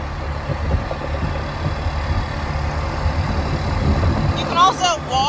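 A vehicle engine rumbles low and steady while driving through a chute at a dirt track speedway. A voice briefly rises near the end.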